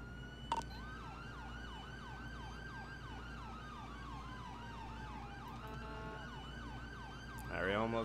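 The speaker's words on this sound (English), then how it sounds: "All right, we're going to bump it up. Sirens all the way." Ambulance siren on a code 3 response in GTA 5, a loud wailing and yelping electronic tone cycling steadily throughout, with engine hum underneath and a brief burst of other noise near the end.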